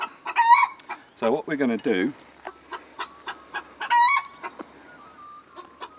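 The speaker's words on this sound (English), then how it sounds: "this one is obviously the most uncooperative chicken of the lot" A chicken caught in a net clucks and squawks agitatedly in repeated bursts, close and fairly loud, while someone talks over it.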